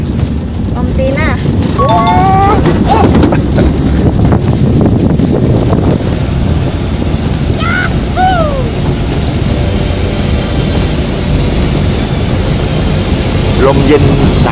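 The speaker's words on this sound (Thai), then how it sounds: "ลมเย็นหนาวมากครับทุกคนตอนนี้" Strong, cold wind buffets the microphone on a mountain trail at Phu Sing, a continuous loud rushing roar with a few voices briefly heard beneath it.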